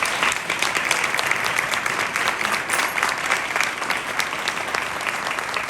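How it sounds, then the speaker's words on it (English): A lecture audience at a university Q&A in Toronto breaks into sustained applause, dense and even clapping from a roomful of people lasting several seconds. "A round of applause."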